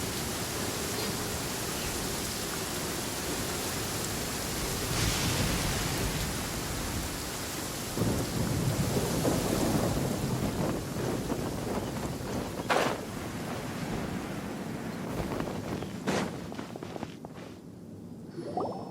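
Steady rain hiss in the video game Genshin Impact, a constant wash of noise with a few sharper thunder-like cracks and faint footsteps, no talk.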